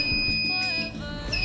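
A shrill Arduino buzzer in a laser security system sounds a sustained high beep when the beam is blocked, with faint background noise and muffled movement beneath it.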